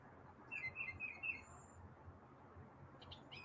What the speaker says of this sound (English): Is that a robin?